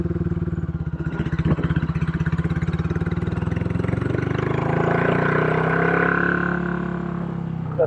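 A rare Royal Enfield Continental GT motorcycle engine runs on its own with a deep, throaty, bassy thump, revving up steadily near the middle and holding a loud, rich roar before easing off.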